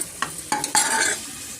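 Half a medium onion, finely chopped, fries in about a spoonful of oil for mutton sambar, giving a close, steady sizzle with a few sharp stirring scrapes. It ends abruptly after under two seconds.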